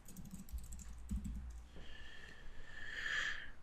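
Keys tapped on a computer keyboard while entering a scan target in network-mapping software, a short burst of close, quiet clicks at the start, then fading into a steady background hum.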